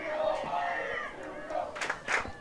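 Spectators at a girls' high school soccer sectional final between St. Viator and Lake Forest chanting "Here We Go Lions" in a rising, rhythmic crowd chant heard at moderate distance, with a few louder shouts near the end.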